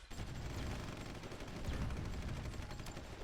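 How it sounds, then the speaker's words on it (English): Artillery fire in a strategy video game: dense, continuous rumbling gunfire and distant booms layered over a low roar, with no clear gaps and no talking. "Artillery is doing its work as it should"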